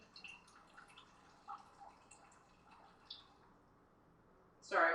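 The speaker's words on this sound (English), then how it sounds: "I'm draining off a tiny bit of this liquid" Liquid drained off cooked food for freezer meals: faint scattered drips and small clicks trickle for several seconds, then a short, much louder splashing pour bursts out at the very end.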